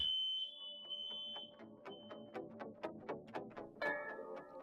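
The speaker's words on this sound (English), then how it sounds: "I'm hoping that this is the last time we hear the alarm" A smoke alarm gives a sustained high beep, then a jumble of rapid, irregular chirps and tones follows, loud and nearby.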